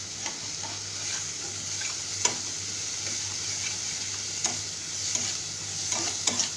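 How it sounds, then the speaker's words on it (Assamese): Pointed gourd and bundi fry in a pan while being stirred, giving a continuous bright sizzle with occasional scraping ticks of the spoon against the pan, close and steady. "লৈ আকৌ এবাৰ মই ভালদৰে লৰাই দিছোঁ।"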